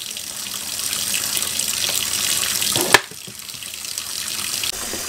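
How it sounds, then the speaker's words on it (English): Warm water running from a faucet into a garage sink, a steady rushing splash that is briefly interrupted by a sharp knock midway, then continues filling. "Now we're gonna fill it back up with water, and we want to put a liberal amount of soap in here."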